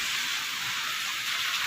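Heavy rain pours outdoors on an evening street, a steady dense hiss with no breaks, fairly loud and continuous throughout.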